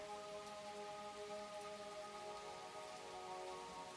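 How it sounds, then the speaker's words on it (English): Soft, even rainfall hisses steadily with countless small drops under a faint, sustained tonal hum, unbroken and quiet throughout. "The raindrop is sliding down."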